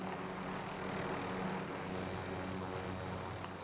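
Droning engines of air-strike aircraft arriving in a video game, a steady, continuous propeller-like hum at moderate distance, fairly quiet, with no talking over it.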